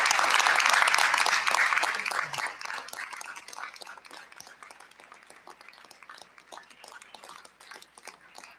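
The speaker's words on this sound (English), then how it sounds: "Graduates, please join me in applauding your families and friends in recognition of the love and support they have provided" Audience at a university physics commencement bursts into loud applause that fades after a couple of seconds into thinner, scattered clapping carrying on in the hall.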